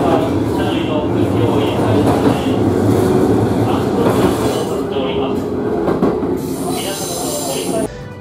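Steady rumble and rattle inside a moving Kintetsu limited express train with folding doors, continuous cabin noise with faint wheel clatter throughout, ending in a short drop.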